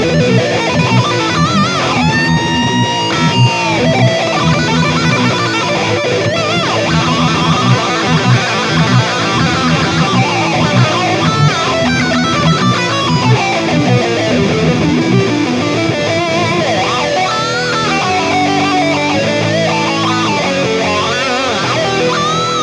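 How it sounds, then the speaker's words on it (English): An electric guitar solo, a fast, distorted lead over a dense, loud full-band backing that runs unbroken throughout. "Now we finally get into the guitar solo."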